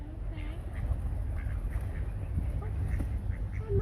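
A duck with a slightly injured head quacks repeatedly outdoors, its calls fairly faint against steady background noise and a low rumble, with no talk.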